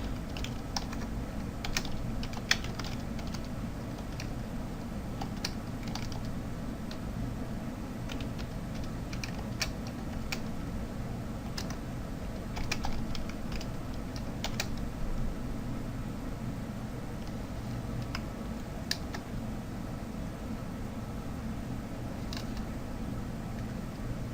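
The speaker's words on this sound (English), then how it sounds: "as I type this out" Continuous typing on a computer keyboard, rapid uneven key clicks close by over a faint steady hiss, with no talking.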